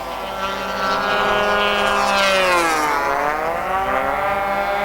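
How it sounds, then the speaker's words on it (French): Racing model airplanes at a 1998 USRA pylon race scream past with loud, high-pitched engine whine whose pitch sweeps up and down as they pass close by, one continuous burst. "ces images spectaculaires des avions les plus rapides"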